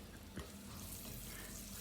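Onion, garlic and bell pepper fry in oil in a kazan for a home-made kazan kebab, a soft, constant sizzle with light stirring, quiet and close.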